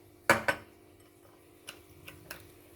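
Spoon clinking against a bowl while sugar is mixed in for pan de coco dough, with two sharp close knocks near the start followed by three lighter, scattered taps, and no talking.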